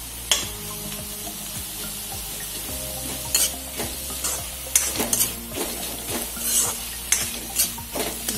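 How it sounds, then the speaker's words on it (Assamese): Jute leaves are stir-fried in a pan, with a continuous close sizzle broken by frequent sharp scrapes and clinks of a utensil against the pan in an uneven stirring rhythm. "অকণমান ভাজি থাকিব লাগিব, লৰাই থাকিব লাগিব"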